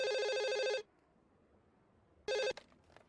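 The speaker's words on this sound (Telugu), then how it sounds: "ముందు నువ్వు ఫోన్ తీ మధుకు ఫోన్ చేయి" A telephone rings on an outgoing call, two loud electronic ring bursts separated by a long silent pause, the second cut short, with no talk.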